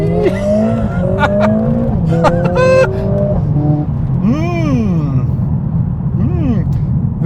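A 2020 Mercedes-AMG A45 S hot hatch is driven hard on a road. The engine note climbs and drops repeatedly through sharp revs and gear changes, loud and close from start to finish.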